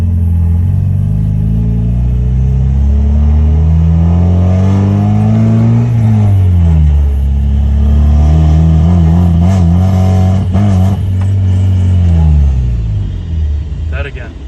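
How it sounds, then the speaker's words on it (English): Mazda Miata with headers, a car that stalls when given gas, idles and revs in rising and falling engine drones that rumble close, then fade out near the end as the engine cuts off. "it'll be driving fine, and then all of a sudden, you give it gas and it'll shut off"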